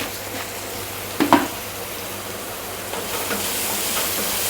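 Red amaranth greens frying in a pan, a steady close sizzle and hiss with a brief clatter of the stirring utensil partway through, no voices.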